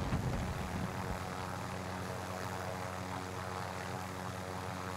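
A helicopter in the video game Call of Duty Warzone drones with a steady rotor and engine roar, loud and continuous, with no talk over it.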